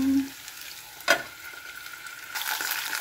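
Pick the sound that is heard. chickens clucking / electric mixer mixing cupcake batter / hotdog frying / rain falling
hotdog frying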